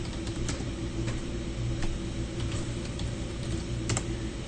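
Quick bursts of keystrokes on a computer keyboard as a name is typed, close and fairly quiet over a low steady background hum.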